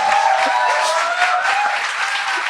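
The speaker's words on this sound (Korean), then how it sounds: "박수 그만 쳐!" Audience applause at a live political talk show taping, a steady dense wash of clapping throughout, with a faint tonal hum running beneath it.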